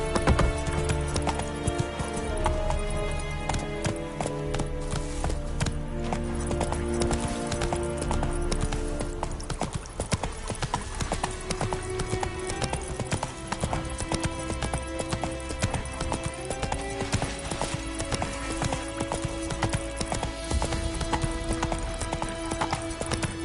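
Roach the horse from The Witcher 3: Wild Hunt gallops with steady, rhythmic clip-clopping hooves, occasional whinnies, loud and continuous over a full game soundscape of music and ambience.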